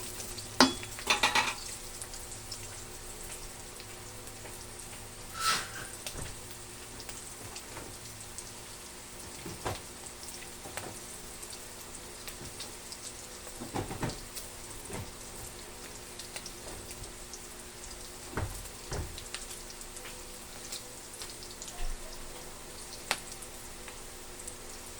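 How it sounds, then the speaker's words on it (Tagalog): Garlic sautéing in a pan for sotanghon guisado, a soft continuous sizzle with scattered crackles and occasional louder stirring scrapes, close and unaccompanied by talk. "Sasutay lang natin ang ating bawang."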